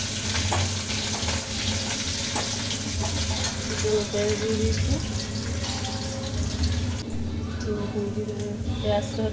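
Tomato frying with onions in a hot wok for chana masala, a steady sizzle with stirring clatter and a running tap in the background of a home kitchen.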